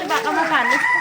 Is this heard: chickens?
yes